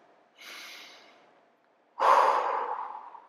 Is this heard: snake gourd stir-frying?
no